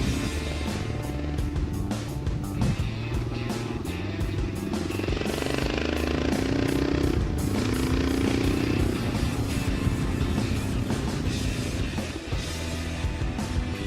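A motorcycle engine hums and burbles steadily while riding, a continuous low throbbing drone with slight pitch rises as it revs, close and even throughout with faint clattering on top.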